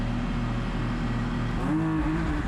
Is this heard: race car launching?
yes